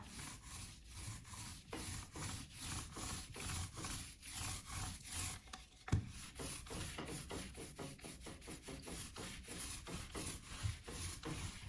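A paint roller spreads primer across a building facade in a rhythmic series of soft, rasping rubbing strokes, repeated evenly at close range with no talking.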